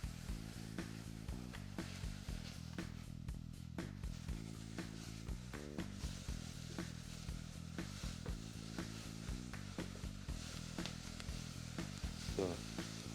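Slices of Weißwurst fry in a pan as part of making onion soup, a soft steady sizzle under a repeating background music track, fairly faint and continuous.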